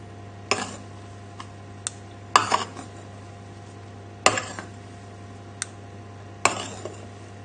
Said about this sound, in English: I'm just running the spoon under the bottom and then turning it over